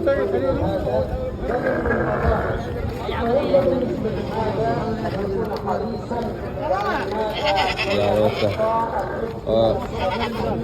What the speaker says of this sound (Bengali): আরেকটা ছাগল দেখা যাচ্ছে বড় সাইজের ছাগল